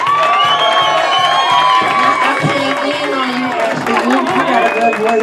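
An audience cheers, whoops and shouts for Ashley in a steady, dense roar that holds from start to finish, with music or voices running underneath.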